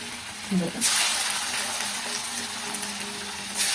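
Kothimbir vadi pieces frying in hot oil, a steady broadband sizzle that swells after a brief low knock, continuing close and even with a fresh burst near the end.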